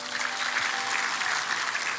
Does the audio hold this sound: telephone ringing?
no